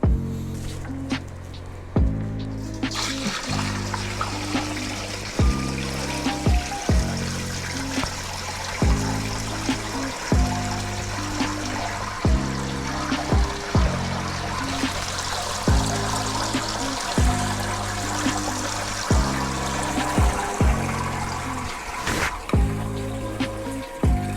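A steady stream of water poured through a colander into an aquarium setup, continuous splashing and trickling, close and fairly loud, with a repeating low musical backing underneath.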